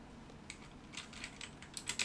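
Computer keyboard keys tapped in quick uneven bursts while text is entered into a Hangul word-processor document, soft and close, with clicks growing denser toward the end and no voices.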